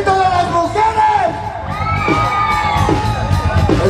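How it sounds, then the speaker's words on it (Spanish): At a wedding celebration, women in the crowd let out loud shouts, whoops and cheers that carry on steadily, with raised voices layered over one another nearby. "¡El grito de las mujeres!"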